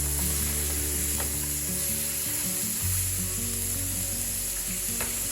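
Burger patties for diner-style patty melts sizzle steadily in a hot pan just after being flipped, a continuous close frying hiss with faint scrapes and clicks and no talking.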